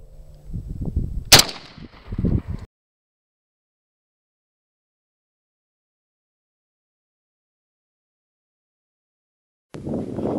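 A single sharp, loud report rings out as a .45 ACP hollow-point round is fired into a ballistics gel block, framed by brief low handling noises, then a long stretch of silence.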